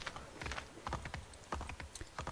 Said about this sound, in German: Blöden Pferde.